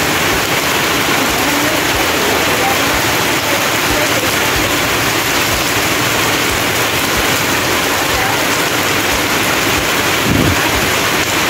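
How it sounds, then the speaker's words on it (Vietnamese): Heavy rain pours steadily in a fruit orchard, a dense, loud, continuous hiss of water on foliage and surfaces with no talk, a small thump near the end. "Mưa cũng lớn quá cả nhà."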